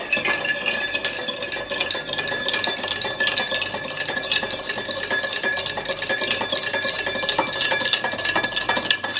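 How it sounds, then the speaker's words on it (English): A Negroni cocktail stirred with ice makes dense, rapid rattling and clinking of ice against the glass and spoon, close and continuous with no talk. "And then we'll stir."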